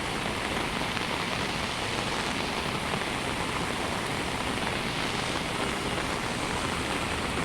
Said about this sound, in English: the rain is pouring at this moment